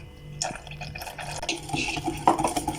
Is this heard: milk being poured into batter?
yes